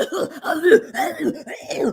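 A voice imitates hard, harsh coughing in a series of rough bursts, loud and close, without any spoken words.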